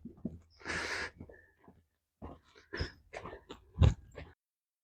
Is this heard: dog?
yes